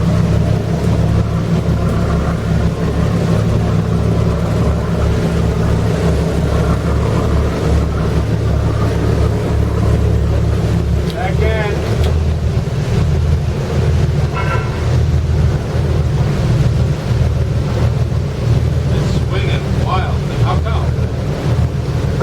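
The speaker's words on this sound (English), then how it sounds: "I'm having to use the engines to keep the boat parallel to the wall. You can hear me shifting." Boat engines rumble and shift as the vessel holds itself parallel to the wall in a turbulent lock chamber, a loud, steady low drone mixed with churning water and wind buffeting the microphone throughout.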